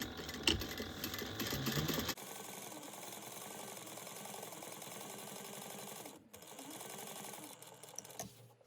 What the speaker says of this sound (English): you're going to top stitch right here at 1/8 of an inch